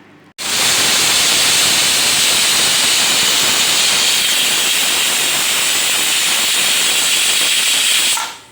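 Pressure cooker whistling steadily while dal cooks for Tiffen sambar, a loud continuous high hissing steam jet that starts abruptly and holds for about eight seconds before cutting off.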